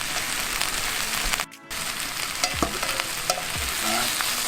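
Steak and chicken fajitas with vegetables sizzle steadily over charcoal on a Weber grill, with a brief cut and some scraping, stirring clatter from a utensil during the frying hiss.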